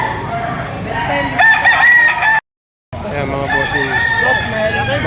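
Roosters crow loudly and repeatedly at a market in Padre Garcia, Batangas, Philippines, several birds overlapping close by, with a brief dropout of total silence partway through.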